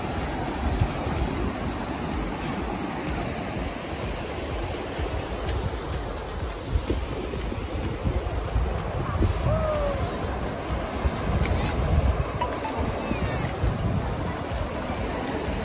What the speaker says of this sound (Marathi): सुंदर स्वच्छ असं समुद्र आहे.